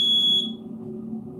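A smoke detector gives a short, piercing electronic beep that cuts off quickly, leaving a low background hum.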